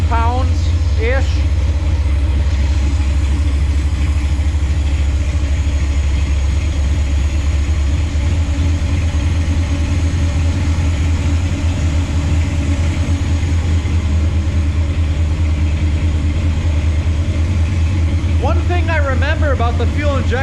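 A 1968 Chevy C20 pickup's big-block engine, first started in years, idles steadily with a deep, even rumble, close and constant, with faint brief noises near the start and end.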